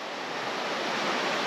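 Fast river water rushes over small shallow rapids at Tully, a dense, steady hiss and roar that stays close and constant throughout, with no voices.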